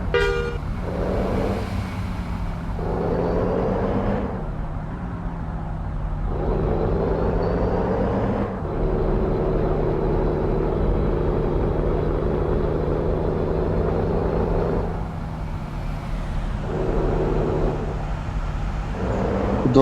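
Heavy crane truck grinding along a dangerous single-lane mountain road, its engine a steady low rumble with swelling revs, broken by several horn toots over the continuous drone.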